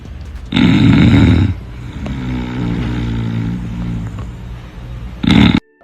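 Loud, rasping snores from a man up close: two heavy snorting bursts separated by a longer, quieter rumbling breath.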